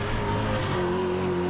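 A GT race car roars past at Oulton Park circuit, its engine note dropping in pitch as it goes by in one brief, loud pass.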